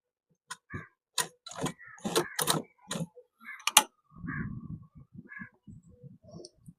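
A sewing machine top-stitches the collar of a school shirt, quiet irregular mechanical ticks and short clattering bursts of stitching with small pauses between them, no talk.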